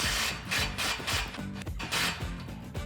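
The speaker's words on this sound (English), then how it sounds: "I'm going to tighten up this clamp just to make sure that I have the right" A wrench or ratchet tightens a Borla Stinger S-Type 2.5-inch cat-back exhaust clamp under a 2015-2017 Mustang GT, close repeated grinding clicks and scraping turns in a steady rhythm, no voices.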